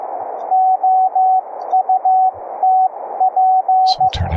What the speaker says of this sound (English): We've got the Morse code for the paddles.